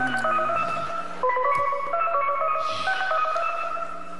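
Electronic telephone tones play over a speakerphone during a live comedy stage show: a steady run of clear, beeping dial tones, loud and close, with no voices.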